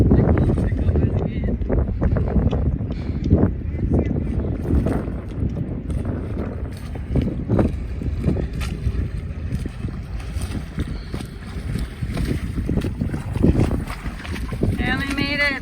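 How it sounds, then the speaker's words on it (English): Wind gusting at sea off Gran Canaria, a steady broadband rush over choppy water around a small boat, continuous and fairly loud with people talking and exclaiming throughout. "The wind is picking up."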